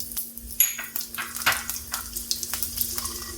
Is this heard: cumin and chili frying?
yes